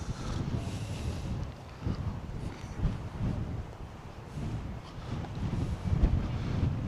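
Cold gusts at an outdoor Christmas market in Canterbury, England buffet the microphone in low, uneven rumbling bursts that rise and fall for several seconds.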